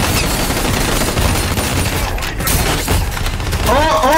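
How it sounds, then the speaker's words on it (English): Dense, continuous gunfire fills a Call of Duty Black Ops 3 firefight, loud bursts of rifle and machine-gun shots layered with explosions and game voices shouting throughout. "Who the fuck am I shooting at?"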